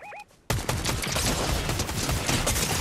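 Rapid enemy gunfire in Fortnite Zero Build, a dense, loud stream of shots that starts abruptly after a short game chime and continues without pause.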